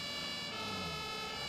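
Fire truck siren in the Emergency 112 video game, a steady, dense wail filling the whole moment without pause.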